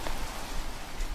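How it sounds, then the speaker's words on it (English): Heavy rain pelting onto dirt ground, a dense, steady hiss of falling drops heard fairly loud and alone for just over a second. "The rain pelted hard onto the ground, turning the dirt to marshy land."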